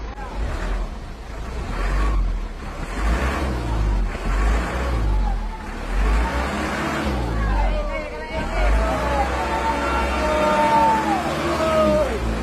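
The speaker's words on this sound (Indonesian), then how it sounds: "Dua unit dump truk membawa bantuan untuk korban banjir melintasi simpang 4 Biren." Two dump trucks loaded with flood relief aid rumble through a busy intersection at Simpang 4 Biren in Aceh, a steady engine drone with rising revs beneath a crowd's chatter and shouting.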